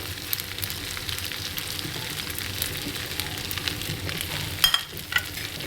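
Masala roasting in a hot pan for restaurant-style butter chicken gives a steady, close sizzle and crackle with no talk, plus a few brief louder spits near the end.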